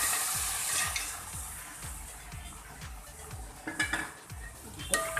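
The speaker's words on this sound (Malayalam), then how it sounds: "നാടൻ കോഴി നമ്മൾ ആഡ് ചെയ്യുകയാണ്." Boiled country chicken added to a hot pan of curry masala and stirred, giving a steady rhythmic metal scrape of a spoon against the pan over a soft sizzle, close and clear with no voices.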